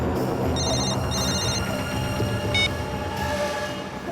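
A telephone rings in a tense scene of the Hindi TV crime drama CID, giving repeated electronic bursts over a constant rumbling, train-like background drone, with no voices.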